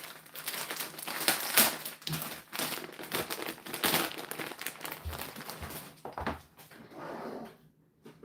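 Plastic packaging from an online order of athletic jumpsuits crinkles and rustles continuously up close as it is handled and torn open, with sharper crackles and brief pauses.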